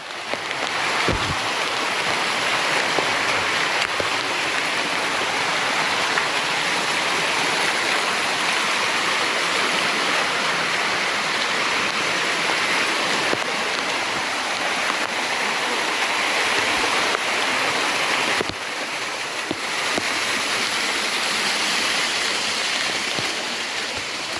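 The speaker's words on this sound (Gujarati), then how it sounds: "પાણી એકલા ડુંગરા વોટરફોલ જ થઈ ગયા" Monsoon waterfalls and streams rush down the Girnar hills near Junagadh, a dense, continuous roar of falling water that holds steady throughout with no voices.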